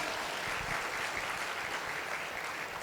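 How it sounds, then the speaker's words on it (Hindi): Audience applause at an anti-drug awareness training program in Chhattisgarh, a steady dense wash of clapping that fills the whole stretch at moderate level with no talk over it. "तालियां।"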